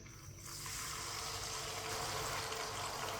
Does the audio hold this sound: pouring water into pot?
yes